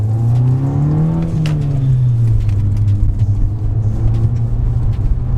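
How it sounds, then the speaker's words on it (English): A high-mileage VW Golf GTI Edition 30 drives over a bumpy road, its engine droning steadily from inside the cabin with a slight rise and fall in pitch and small thumps from the uneven surface. "Let's see how well it tolerates the bumpy road now."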